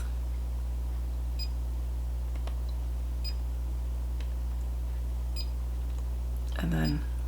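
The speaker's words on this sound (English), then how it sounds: "And I love the little beeps." A Fleur Deluxe diffuser gives short, faint electronic beeps at intervals as its light colors change, over a steady hum, with someone talking nearby.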